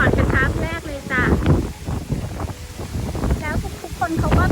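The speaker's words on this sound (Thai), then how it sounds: "เราเจอพายุ ลมแรงมาก" Strong wind from a storm buffets the microphone at a campsite beside a lake among mountains, roaring in gusts beneath people talking close by.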